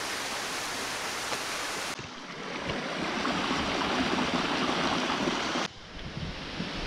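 Steady rushing water from the Ouzoud waterfalls in Morocco roars continuously, a dense broad wash of falling water with no voices, the level shifting slightly at a couple of abrupt cuts.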